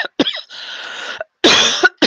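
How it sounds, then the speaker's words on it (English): A person coughs in several loud, close bursts, with short gaps between the fits. "Excuse all the coughing."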